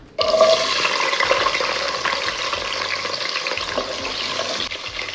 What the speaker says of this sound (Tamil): இப்போது வெங்காயம் சேர்த்துக்கிறேன்.